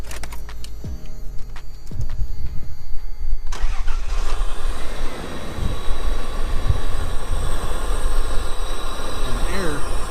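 A second-generation Toyota 4Runner fitted with a snorkel cranks and fires up, then settles into a loud, steady rumbling idle close by, with brief talk near the start.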